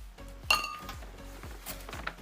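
Plates clink and clatter as they are handled, a sharp ringing knock followed by several lighter rhythmic taps of ceramic on a hard surface, close and clear.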